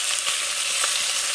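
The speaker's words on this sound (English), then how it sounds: "So I'm going to saute this for a few minutes, probably about 5-6 minutes" Black-eyed peas with okra sauté in a pan for a soup, giving a bright, dense, continuous sizzle, close and steady, with no voices.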